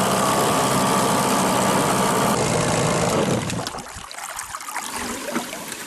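A vehicle engine running while driving to a hut during a September fishing and hunting trip, a loud steady rumble that abruptly drops away, leaving quieter idling and rattling noises.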